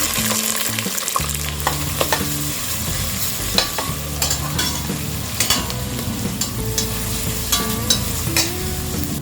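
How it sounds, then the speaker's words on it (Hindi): Curry leaves and finely chopped onion crackle and sizzle in hot oil for a misal, with a steady loud fry and repeated clanks of a spoon stirring the pan throughout, no voices. "तेल गरम हो गया है। अब हम इसमें डालेंगे 10 से 12 कड़ी पत्ता, ऑनियन फाइनली चॉप्ड"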